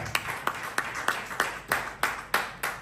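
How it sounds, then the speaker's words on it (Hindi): Steady rhythmic clapping from a seminar audience, about three sharp claps per second in even time, with no talking. "रजवाल जी के लिए जोरदार तालियां आने के बाद।"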